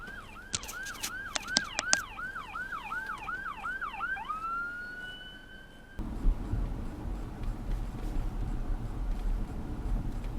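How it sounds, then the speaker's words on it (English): Emergency vehicle sirens wail on a street, rapid yelping cycles with sharp horn blasts up close, then the siren sweeps away as traffic rumble takes over. "Oh yeah, sirens are going."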